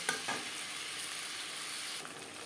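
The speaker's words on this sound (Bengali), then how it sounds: "মশলার সাথে আলু বেশ ভালো করে মিক্স করে দেবো" Potatoes being mixed with spices in a hot pan, a continuous close sizzle with a few brief stirring scrapes near the start, no talk.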